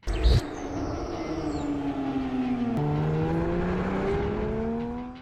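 A Porsche 911 Turbo S with a 3.8-liter twin-turbocharged flat-six, revving hard through the gears with rising engine tone, a shift break and climbing again, loud and close without talk.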